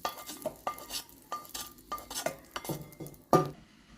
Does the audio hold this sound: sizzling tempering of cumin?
yes